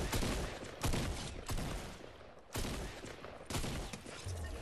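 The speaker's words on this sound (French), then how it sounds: "On me tire déjà dessus, j'ai mal." Gunfire rattles in a Fortnite match as several fast bursts of shots come in separate volleys, loud and sharp, with a short lull between them and no talk.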